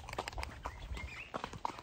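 A horse's hooves clip-clop steadily on a rainforest trail in Costa Rica as it is ridden, a close, even walking rhythm of soft thuds with faint background rustle.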